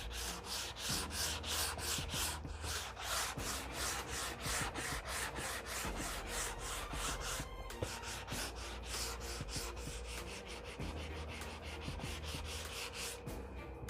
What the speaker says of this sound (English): we'll come back with the hand sander again and we'll just do a little more finesse sanding